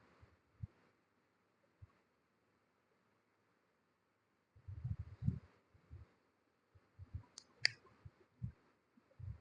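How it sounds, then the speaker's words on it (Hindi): Tarot cards being laid out and arranged on a surface during a reading, giving a few soft taps and shuffles after a quiet stretch, then a burst of close card handling with brief sharp clicks. "एक मिनट हाँ, मैं कार्ड ठीक से रख दूं।"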